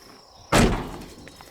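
A single loud door slam from a Mazda B Series pickup truck with a repaired handle, a sharp close thud that rings briefly and fades, with quiet background before and after.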